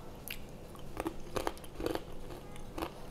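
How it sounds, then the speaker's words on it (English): Homemade green banana chips crunching as they are bitten, several crisp snaps spaced through a quiet close-up with no talking. "can you hear that crunch?"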